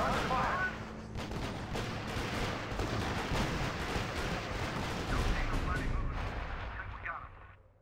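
Dense gunfire and artillery in the strategy video game R.U.S.E, a continuous loud battlefield roar of shots and booms that fades out near the end, with voices talking over it.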